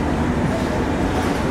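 Intercity Chitra Express train at Ishwardi railway junction, a brief, steady, fairly loud rumble of rolling stock close by.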